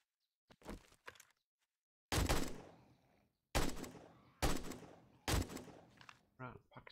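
Gunshots in the survival game 7 Days to Die: a few light early pops, then four loud, sharp single shots spaced about a second apart, each with a short decaying tail, with brief talk near the end.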